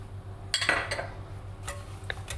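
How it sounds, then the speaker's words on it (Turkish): A spoon stirs oil and semolina in a pan for a Turkish milk dessert, giving a few close metallic clinks and scrapes in short bursts, with quiet gaps between strokes. "Yine biraz karıştırıyorum."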